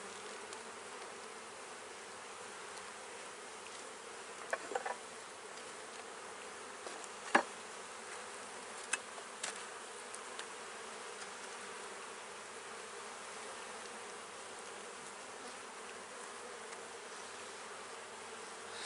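Steady, dense buzzing of many honey bees at a hive, continuous throughout, with a few brief sharper ticks and knocks rising out of the hum.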